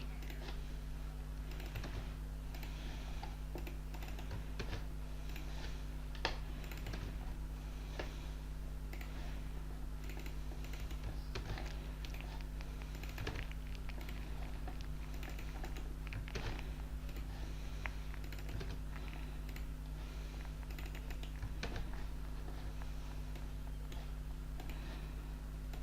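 Faint, scattered computer keyboard keystrokes and clicks as text is copied and pasted, steady and soft over a constant low electrical hum.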